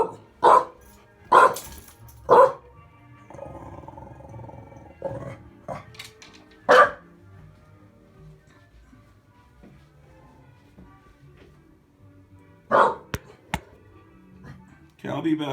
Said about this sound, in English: What you barking at, Drew?